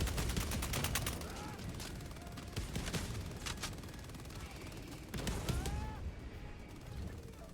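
Gunfire in Helldivers 2 comes as rapid, jumpy bursts of automatic shots, loud and close, with some explosive crashes under a steady din of battle noise.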